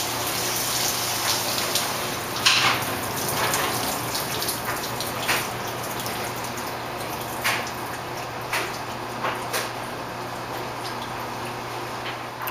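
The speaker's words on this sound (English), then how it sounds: "Before we wash it, let's see how the water sheets." Water running and sheeting off the front hood of a dirty car, a steady close hiss of flow with faint ticking drips scattered through it.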